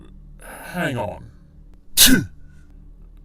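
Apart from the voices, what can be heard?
sneeze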